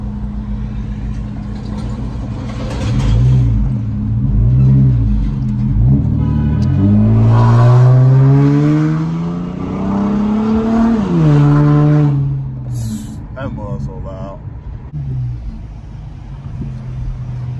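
A car with a fully catless exhaust and an 08 front-end swap revs hard at night, the engine climbing through several loud rising and falling sweeps before settling back to a rough, rumbling idle.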